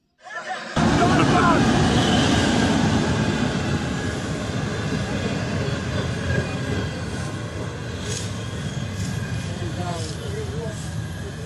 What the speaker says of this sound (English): this is Omi train station. The train has just arrived.